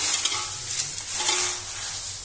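A homemade savoury snack mixture tossed and stirred in a bowl, a quick dry rustling and crunching of the crisp pieces, heard close with no talk.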